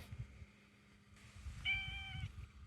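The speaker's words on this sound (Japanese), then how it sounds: "猫ちゃん" A tailless cat on a remote island gives one clear, brief meow at moderate distance over low rumbling wind noise outdoors.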